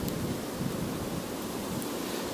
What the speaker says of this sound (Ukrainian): Ужасний вітер, просто ужасний.